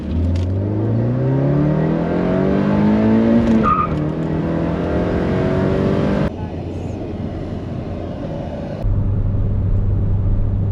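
A cheaply repaired Saturn Sky roadster with about 32,000 miles is driven on open roads, its engine droning and climbing steadily in pitch as it accelerates, close and continuous, with gear changes breaking the tone.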